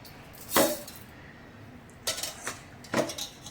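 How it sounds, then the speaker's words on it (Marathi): Raw rice poured from a small bowl into a mixer grinder jar, a few short clinking clatters of grains and metal at close range, separated by quiet pauses. "आता हाच तांदूळ मी मिक्सरच्या भांड्यामध्ये घालून घेते"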